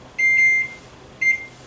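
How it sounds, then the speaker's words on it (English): An oven timer in a kitchen beeps as it is set: two clear, high electronic tones, a longer one then a shorter one after a pause, sounding close and alone over a quiet background. "So I'm just going to go ahead and set the timer here"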